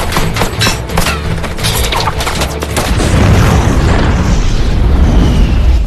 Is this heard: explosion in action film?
yes